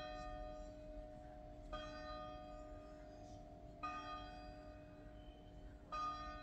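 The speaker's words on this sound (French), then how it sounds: "en comptant le nombre de cloches, il faut savoir quelle heure il est." Church bells tolling the hour in Fuzeta, Portugal: three evenly spaced strikes, each leaving a long, humming resonance, moderately distant over a faint background hum.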